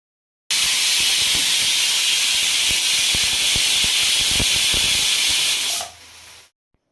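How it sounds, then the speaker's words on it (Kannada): A pressure cooker cooking rice lets out a loud, steady whistle that hisses continuously for several seconds, then fades out with a brief softer hiss. "ಕುಕ್ಕರ್ ವಿಷಲ್ ಆಯಿತು ನೋಡಿ"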